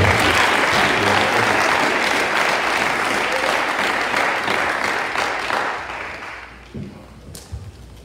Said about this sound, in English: So let's give them a great big round of applause.